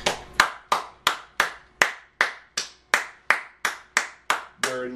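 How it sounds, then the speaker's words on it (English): A single person claps their hands about a dozen times in a steady, evenly spaced rhythm; each clap is sharp, close and dry, with quiet gaps between and no other sound. "Very little from my clapping."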